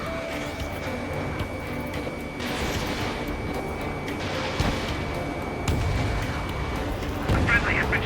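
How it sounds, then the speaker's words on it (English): A missile launch in an Ace Combat 7: Skies Unknown jet mission, a rushing whoosh and rumbling booms over steady engine drone, with radio chatter heard through the scene. "Strider 1, missile away."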